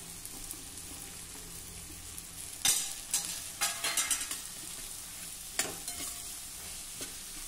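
Ivy gourd slices are stirred in a sizzling pan, a spoon scraping and clinking in several quick strokes over a steady frying hiss, close up with no voices.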